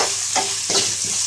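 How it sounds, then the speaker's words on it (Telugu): Onions and curry leaves fry in a hot pan with a continuous hiss, broken by a few soft stirring scrapes over just over a second. "తర్వాత ఆనియన్స్ వేసుకుందాం, తర్వాత కర్రీ లీవ్స్ కూడా వేసేసుకొని"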